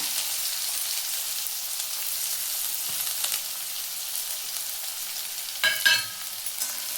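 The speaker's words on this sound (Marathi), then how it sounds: "जिरं मोहरी तडतडले की आपण चिरलेला कांदा टाकून घेऊया।" Chopped onion with cumin and mustard seeds fries in hot oil for a village-style dried sandge vegetable dish, a steady close hiss and sizzle with a brief scraping stir near the end.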